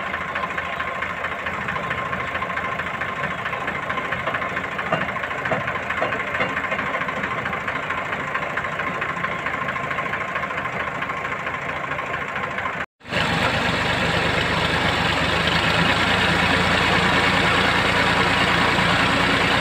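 A tractor engine started with fire on a cold winter day idles steadily and loudly, with a brief cut near the end before the same steady running resumes.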